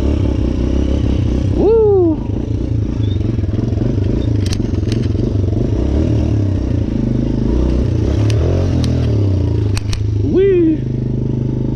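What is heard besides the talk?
dirt bike engine riding on the beach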